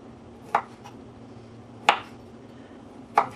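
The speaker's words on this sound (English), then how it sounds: "And slice it up pretty thin too." A knife slices a pizza topping thin on a board, three separate sharp cutting strokes spaced about a second apart, close and clear over a quiet room.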